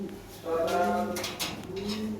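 A Lahore pigeon coos in a soft, throaty rolling call, close by, with faint background noise and a brief rustle.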